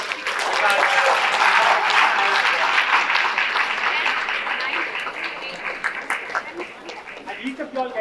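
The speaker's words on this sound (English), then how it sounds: "Please give them a big round of applause today." An audience applauds at a podcast celebration honouring women of excellence, sustained dense clapping that thins toward the end, with a few voices mixed in.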